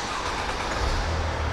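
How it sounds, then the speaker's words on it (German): A car engine turning over and running, with a steady low rumble that strengthens toward the end, heard close by over broad background noise. "start mal ganz kurz das Auto."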